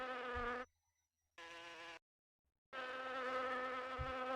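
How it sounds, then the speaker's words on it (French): A cartoon bee buzzes in the Adibou video game, three clear synthetic buzzing bursts separated by silent gaps, steady and tonal, with no voices. "c'est Léa l'abeille."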